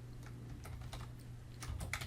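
Computer keyboard typing: scattered light key clicks in uneven bursts, faint and close, over a low steady hum, with no talking.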